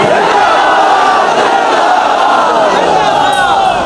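A large crowd at a religious gathering roars a slogan in unison, a loud, sustained mass of voices filling the whole stretch without pause.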